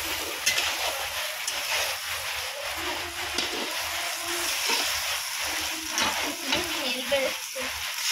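Mutton pieces tipped from a basket into a hot frying pan, a steady broad sizzle with stirring and scraping, and a few voices talking faintly beneath it.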